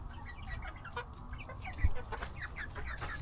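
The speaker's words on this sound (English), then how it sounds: "So these little guys are absolutely my favorite chickens." Silkie chickens in a backyard coop cluck in short, soft, scattered calls, several birds murmuring close by over a low rumbling background.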